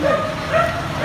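A dog barks and yips briefly at close range over steady outdoor background noise, with no talk.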